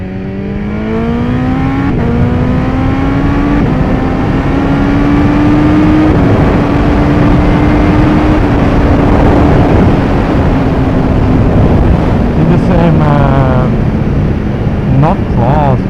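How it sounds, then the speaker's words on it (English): A 2015 BMW S1000RR ridden in sixth gear at about 100 km/h on a windy day: loud, steady engine drone with a slowly shifting pitch under heavy wind roar, recorded on the bike. "Now I'm riding in 6, approximately 100 kilometers an hour,"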